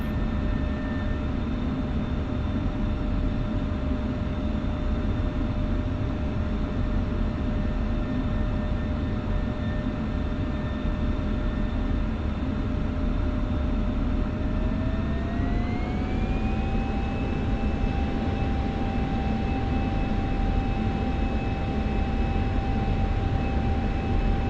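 F-16C jet engine in DCS World holds a steady whining idle with a constant roar, then its tone climbs smoothly partway through as RPM spools up and settles at a higher pitch, continuous and close.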